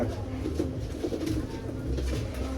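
Pigeons cooing in a loft, soft repeated low coos layered over steady background noise, close by and continuous.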